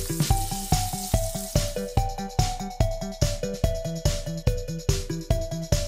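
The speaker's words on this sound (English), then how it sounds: "cover it with flour and put it on a frying pan" Flour-coated brain sizzles and crackles in a hot frying pan, overlaid by a rhythmic series of sharp, repeated tonal beats at a steady pace.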